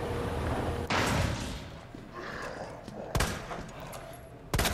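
Sharp gunshots crack out in separated bursts in Resident Evil 2 Remake, a few loud reports with quieter gaps between them.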